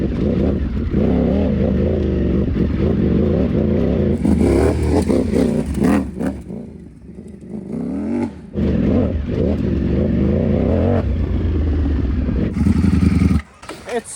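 A Ducati V4 Panigale motorcycle converted for off-road riding revs hard and close on rough trail ground, the throttle rising and falling with rattling and clatter, loud throughout.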